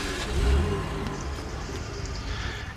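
The Don 71 scout vehicle in SnowRunner revs its engine, a mid-pitched roar that rises to a peak early and then settles into a steady run, with no talk.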